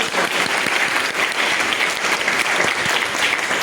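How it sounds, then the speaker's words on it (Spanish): A class gives farewell applause: steady, dense clapping from many hands, loud and continuous throughout, with no speech over it. "démosle un atento saludo de despedida a nivel de aplausos"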